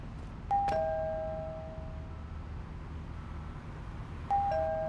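Two electronic doorbell chimes in the video game Pionero Capital, each a bright two-tone ding-dong that rings out and fades, about four seconds apart, over a quiet background hum.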